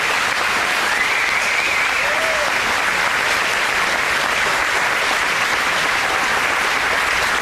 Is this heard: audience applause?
yes